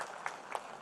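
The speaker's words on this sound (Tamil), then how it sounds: "இன்னும் நல்லா கைத்தட்டலாம் அவருக்கு" Applause from an audience at a Tamil political rally speech, a brief, fairly soft patter of clapping with a few distinct claps standing out.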